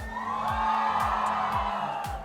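Audience at the Akira film trailer launch screaming, whooping and cheering as one continuous roar of crowd noise, mixed under loud, pulsing music with a booming beat throughout.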